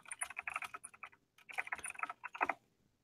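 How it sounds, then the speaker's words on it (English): Rapid clicking of computer keyboard keys in two bursts of steady typing separated by a short pause, close and fairly loud, with no talking. "typing away"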